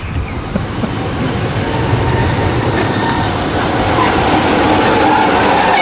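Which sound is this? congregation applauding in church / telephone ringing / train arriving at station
train arriving at station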